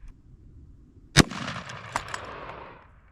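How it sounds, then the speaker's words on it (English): A single loud gunshot rings out against a padlock, sharp and close, followed by a decaying metallic ringing and a couple of smaller clanks from debris. "So I shot it"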